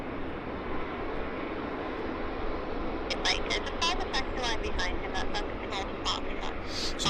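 Aircraft taxiing to the gate at Vancouver Airport, a steady broad engine rumble heard from a distance throughout, with a voice talking over it in the second half.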